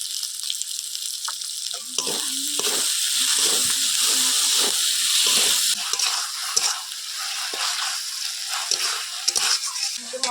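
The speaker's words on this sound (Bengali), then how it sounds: "মশলাটা কিছুক্ষণ নাড়াচাড়া করে নিয়েছি" Masala with chopped tomato, green chili and salt sizzles loudly in a pan, the hiss easing as a spoon scrapes and stirs it in repeated strokes, close and continuous without speech.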